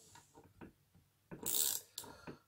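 A ratchet wrench tightening mould clamp bolts gently in a crisscross pattern, heard as short close clicking bursts and a louder grinding ratchet sweep, with no talking.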